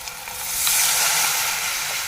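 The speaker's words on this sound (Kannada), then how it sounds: "ನಾನು ಸ್ವಲ್ಪ ಒಗ್ಗರಣೆ ಹಾಕಕತ್ತೀನಿ ರೀ" Spices being tempered in hot oil crackle and sizzle in a loud, continuous hiss that peaks briefly, then holds steady, close by with no voices.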